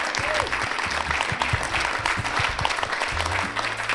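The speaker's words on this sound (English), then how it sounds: "Can we give Frank another round of applause for that?" Audience applause for Frank, a speaker who gives back to ROTC cadets, at a leadership forum: dense, steady clapping from a crowd for four seconds, with faint murmurs underneath.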